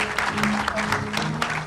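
An audience in a tent at the 2024 Annual Meetings in Mombasa gives a panel a round of applause, a short, full burst of crowd clapping with a faint murmur of voices underneath.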